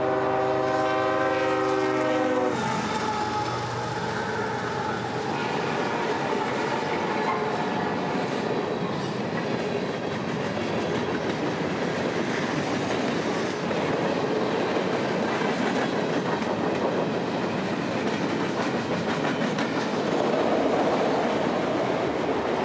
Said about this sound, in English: we take a minute to film the block of Tropicana cars on this train, rolling north